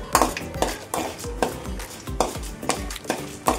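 Spoon stirring a pan of dried red chilies frying in oil for coconut pulihora, producing steady rhythmic scraping clinks about every half second over a soft sizzle.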